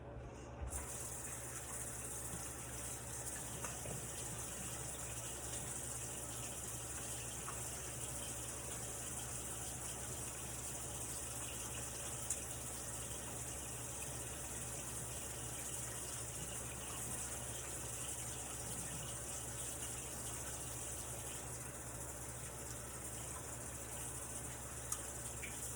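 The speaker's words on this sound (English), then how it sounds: "I need to wash my hands for 20 seconds" Tap water runs in a steady, even stream for a long stretch while hands are washed, constant and fairly faint, with no clear voices.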